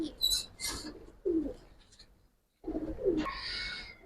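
Giribaz and colouring pigeons cooing up close while being handled, a few soft throaty coos with short gaps and a quiet pause, then more cooing and rustle.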